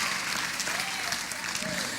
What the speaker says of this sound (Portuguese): Quem pode aplaudir Jesus aí, gente?